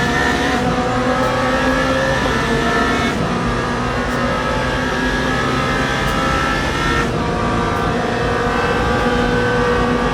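LMP2 prototype race cars in Le Mans Ultimate, a loud continuous engine roar at high revs with small gear-change dips and passing surges, no talking.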